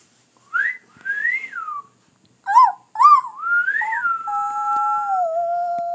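A person whistling a short melodic phrase of rising and falling notes, clear and close, with brief pauses between bursts and a long held tone at the end.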